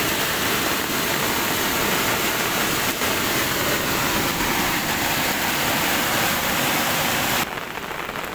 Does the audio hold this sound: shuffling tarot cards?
no